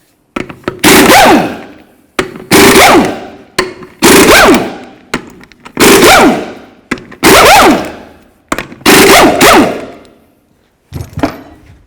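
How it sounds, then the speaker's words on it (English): An impact tool rattling off the six lug nuts on the rear wheel of a 2004-08 Ford F-150 with a 21mm socket: six loud, close bursts of hammering, each lasting about a second, with short silent pauses between them. "Use your 21mm socket and remove all 6 lug nuts"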